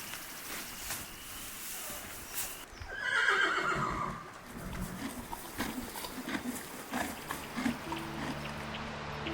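Mules at a horse campground in the Black Hills give one loud, drawn-out whinny partway through, over a steady outdoor background with faint scattered knocks that may be hooves.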